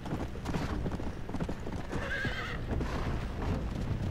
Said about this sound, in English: And my old horse is still following us.